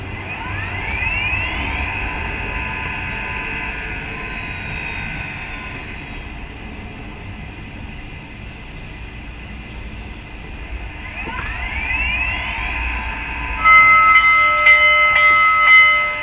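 An Athearn HO-scale Union Pacific 4-8-4 FEF-3 #844 model locomotive runs with its onboard sound on: a steady mechanical rumble with faint hiss, then a bell rings in quick repeated dings near the end.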